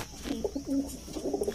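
A red-eyed Indian high-flying pigeon coos in short, soft, rolling phrases, several low calls close by in a brief moment.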